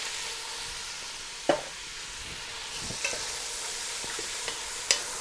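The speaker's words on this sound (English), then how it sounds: "Now what I'm going to do, stir this around." Chicken and sausages sizzle steadily in a pan for jambalaya while a utensil stirs them, with a few sharp scrapes and clicks against the pan standing out over the constant frying hiss.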